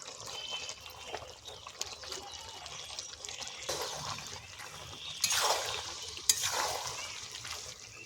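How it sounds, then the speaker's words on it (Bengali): Duck curry with pumpkin stems stir-fried in a pan, a steady soft sizzle under scraping stirs that swell into louder sweeps near the end. "ভালো করে কষে নেব।"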